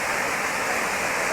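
Steady broadband rush of a river flowing, continuous and fairly loud with no pauses or voices.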